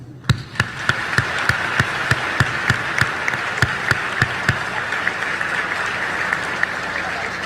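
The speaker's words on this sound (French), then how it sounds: "À vous donc ce concert d'applaudissements." Audience at a graduation ceremony applauding steadily, a dense wash of many hands with a few sharp individual claps standing out at a regular beat, sustained throughout.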